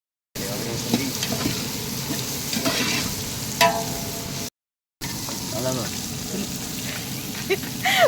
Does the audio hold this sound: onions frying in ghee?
yes